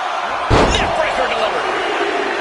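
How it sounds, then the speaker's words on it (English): A wrestler slams onto the ring mat after a neckbreaker at a live WWE Royal Rumble event, one heavy thud followed by crowd noise and commentary voices. "Neckbreaker delivered."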